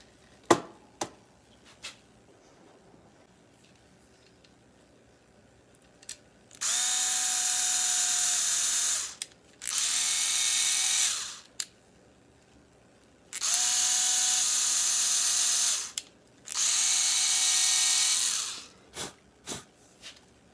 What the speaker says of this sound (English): Now I'm going to drill out 2 little screw holes for the back here